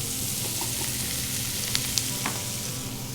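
Zucchini and squash are added to a sizzling pan of onions and peppers for an Italian sausage bake. A constant loud frying hiss is broken by a couple of sharp clicks and stirring scrapes.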